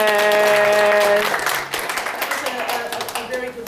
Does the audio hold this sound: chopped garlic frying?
no